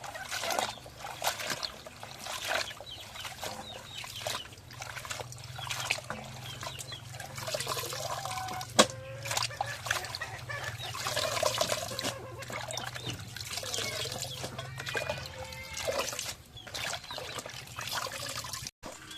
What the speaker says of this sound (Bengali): আমি বালতি ভরে পানি নিছি পানির মধ্যে শাক গুলো দিই দিয়ে ধুয়ে নিই শাকটা